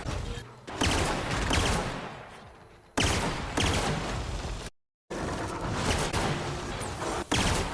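Plasma pistol fire in The Outer Worlds crackles in loud, sustained bursts, broken by abrupt cuts and a brief silent gap.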